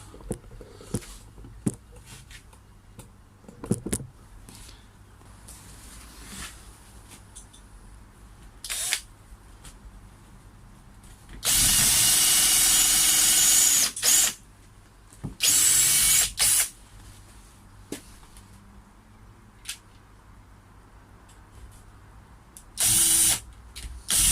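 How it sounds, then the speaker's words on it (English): A power drill drives screws into wood timbers while a koi pond is strengthened, with three loud whirring bursts, the longest about two seconds, separated by quiet gaps of clicks and handling noises. "So there again, you got another 3 woods, all needs screwing up"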